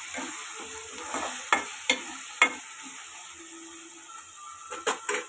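Tomato pieces sizzle softly as they cook in a pan with a low, steady frying hiss, broken by several sharp clinks and scrapes of stirring.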